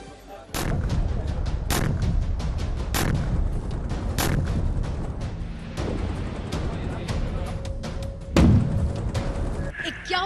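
Heavy artillery bombardment and shelling in Ukraine: a rapid series of deep, booming blasts and thuds, some close and loud, others more distant, repeating irregularly throughout.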